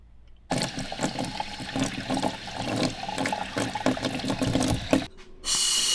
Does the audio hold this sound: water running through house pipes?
yes